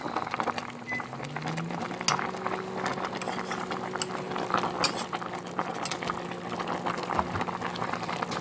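Pork and greens bubble in a pot for a Hmong-style dish, a steady close rolling boil full of dense popping and gurgling that continues without a break, with no talking.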